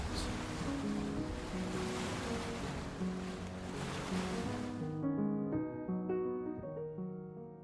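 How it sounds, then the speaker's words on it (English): Lower Falls, the waterfall of the Yellowstone River deep in the Grand Canyon of Yellowstone National Park, gives a broad, steady roar of rushing water for about five seconds. Gentle music plays underneath and continues alone after the roar ends. "Lower Falls is the spectacular waterfall of the Yellowstone River, deep within the Grand Canyon of Yellowstone National Park"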